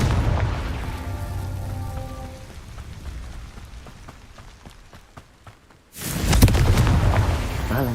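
A Confringo blasting spell bursts in Hogwarts Legacy, a sudden loud, broad explosion erupting near the end after a stretch of crackling game effects and scattered impacts.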